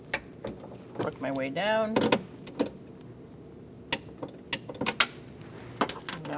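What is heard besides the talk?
torque wrench tightening window regulator bolts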